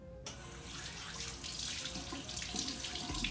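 Tap water runs steadily into a sink during hand washing, a continuous close splashing stream that starts abruptly and holds at even loudness with no talk.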